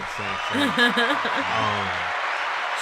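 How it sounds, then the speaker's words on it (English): A group of people clap together in applause at a live event, a steady wash of clapping running for a few seconds beneath a person talking over it. "We got to clap that one, clap that."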